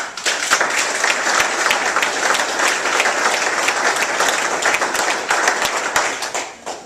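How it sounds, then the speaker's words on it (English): A room of Tea Party meeting attendees in Columbus breaks into a sustained round of applause, dense overlapping claps holding steady for several seconds before tapering off near the end. "Let's give him a round of applause."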